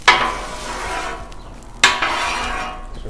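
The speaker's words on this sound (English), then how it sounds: "So let's go ahead and just move all the veggies" Vegetables pushed across a hot Blackstone griddle, two close scraping strokes, one at the start and one past the midpoint, each followed by a sizzle that slowly fades.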